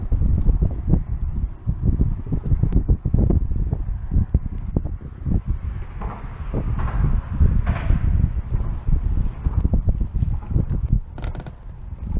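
Stiff wind buffets across a winter lake while fishing, a loud continuous rumbling gusty roar with occasional knocks from the boat.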